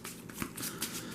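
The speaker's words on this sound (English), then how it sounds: "So we are going to have to shuffle our discard pile." A discard pile of game cards is riffled and shuffled in a quick, close burst of papery flutters and soft slaps, brief and fairly quiet.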